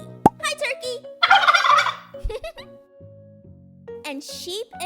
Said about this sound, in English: And look at this turkey.